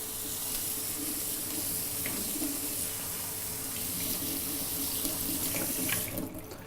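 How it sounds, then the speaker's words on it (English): Cold tap water runs steadily into a sink over freshly strained noodles for homemade chicken noodle soup, a continuous close splashing hiss for several seconds that cuts off at the end. "just run them under cold water, just so that they cool down a little bit."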